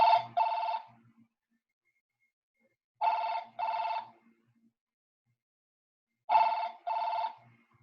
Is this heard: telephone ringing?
yes